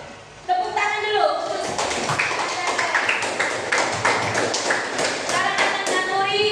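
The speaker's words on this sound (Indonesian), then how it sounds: "Tepuk tangan dulu." Classroom of children clapping together after a pupil reads verses, a brisk ragged patter of many hands close by, with a voice and chatter mixed in.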